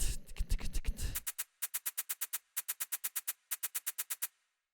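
A techno shaker sample plays alone in a short, crisp rhythmic pattern of evenly spaced bright hits, grouped in bursts with brief gaps, loud and close after a denser opening flurry.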